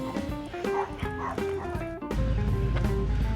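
A dog barks several times nearby at a campground, sharp repeated yaps with some whimpery tones, followed by a low rumble of background noise.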